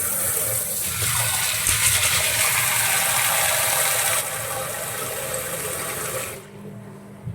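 Running water rinsing soaked horse gram beans in a kitchen, a steady close gush with rattling and clattering, alone, cutting off near the end.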